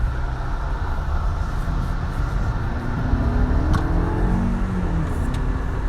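A 2018 Lexus NX 300 luxury SUV accelerates in normal mode, its engine droning steadily from inside the cabin, with a low hum and a tone that rises slowly as speed builds.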